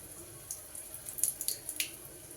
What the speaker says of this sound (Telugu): మొత్తం వాటర్ చల్లేసుకుందాం